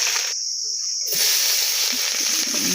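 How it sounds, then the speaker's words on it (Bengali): Snakehead fish heads fry slowly in hot oil, making a steady, close, bright sizzling hiss that holds at an even level throughout. "আজকে আমি মাছের মাথাগুলো ভেজে নেব মাছের মাথাগুলো আস্তে আস্তে করে ভাজতে হবে"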